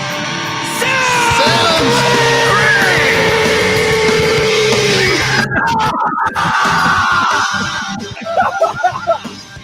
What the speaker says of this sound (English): You got a good scream that time.